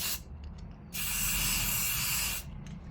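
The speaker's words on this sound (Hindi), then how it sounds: "तो इस स्प्रे कलर से मैं पहले इसको ब्लैक कलर करा के लूँगा मैं।" Black spray paint hisses from an aerosol can onto a wooden platform in one steady burst of about a second and a half, close and loud, framed by a few short puffs before and after.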